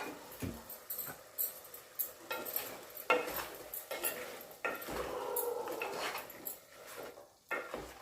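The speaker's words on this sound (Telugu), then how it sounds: "ఇప్పుడు ఈ మటన్లో ఉప్పు కారం వేసుకొని కలబెట్టుకోవాలి" Mutton is mixed with salt and chili powder for a curry, producing soft scraping and clinking of utensils against a pan or bowl in irregular bursts at close range.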